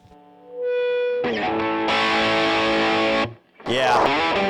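An electric guitar plays through the distortion channel of a Mesa Boogie Mark V amplifier, with loud, saturated chords ringing out. A brief break follows, then another heavy strummed chord, all with no talking.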